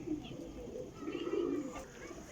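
Prized flying pigeons coo faintly in soft, low, wavering bursts amid steady background noise, a few overlapping calls with no clear talk.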